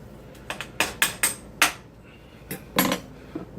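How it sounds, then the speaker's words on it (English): A spoon scrapes and clinks against a cooking pot of Polynesian rice with added pineapple juice, making a close series of about a dozen uneven metallic taps and knocks over a few seconds with no talking. "Since I added more pineapple juice, let's go ahead and give that a little"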